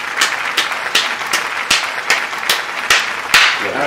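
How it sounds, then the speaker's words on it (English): An audience applauds a dancer guest from Juilliard with loud, distinct claps spaced out in an uneven, sparse rhythm, each one sharp and close. "Everyone give Nilo from Juilliard a round of applause."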